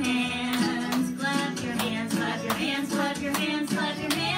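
Rhythmic hand claps keep time over a children's singalong song with music, steady beats repeating about twice a second, loud and near.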